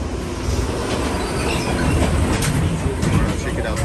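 A St. Petersburg tram running on rails, with a loud continuous rumble, rhythmic wheel clatter and a hint of squeal, heard from on board with faint voices underneath.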